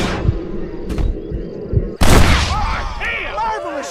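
Gunfire in a Western-style video game, with a sharp loud blast cutting in sharply mid-clip over a busy game soundscape, followed by ringing tones and scattered effects.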